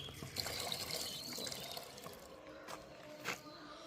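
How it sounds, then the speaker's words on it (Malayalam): Herbs such as aloe vera and tulsi leaves are rinsed in a bowl of water for homemade hair oil, a soft continuous sloshing and trickling with a few brief splashes, close and fairly quiet. "വെള്ളം മാറി നന്നായിട്ട് കഴുകിയെടുക്കണം"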